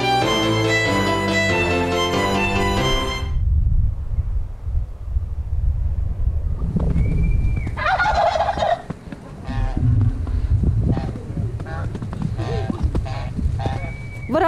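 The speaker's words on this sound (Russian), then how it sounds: "Выращиваем для себя вот индюков, гусей." Domestic turkeys gobbling in a rural farmyard with geese nearby, loud bursts repeating over a noisy outdoor background with some wind, after a short stretch of music at the start.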